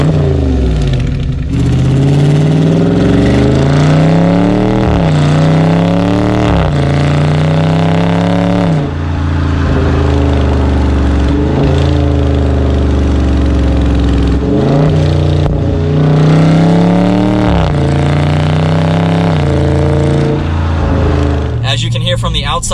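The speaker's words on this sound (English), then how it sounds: "I love the rumble of that V8 engine." A 2021 Dodge Charger Scat Pack's V8 rumbles loudly and continuously while driving on the road, with repeated rising revs and gear changes in a deep, steady engine drone.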